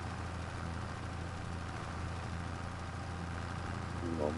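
Tractor engine idling in Farming Simulator 25, a steady low mechanical drone that holds evenly throughout, fairly quiet with a faint brief tonal blip near the end.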